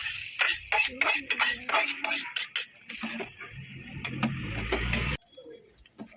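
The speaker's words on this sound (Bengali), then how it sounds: "মশলাটা আমি এবার এর মধ্যে মিশিয়ে দেবো" A spoon clinks and scrapes against a cooking pot as cooked masala is stirred into khichuri, a run of quick metallic taps and scrapes followed by a softer, sizzling stir, close by.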